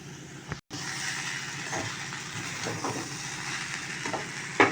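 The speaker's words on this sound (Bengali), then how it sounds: "একটু নেড়ে নেবো লেবুর রসটা দেওয়ার পরেই আমি" Flattened-rice vegetable pulao gets stirred in a pan right after lemon juice goes in. A steady close sizzle runs throughout with gentle stirring scrapes, broken by one brief silent gap near the start and a sharper clack at the end.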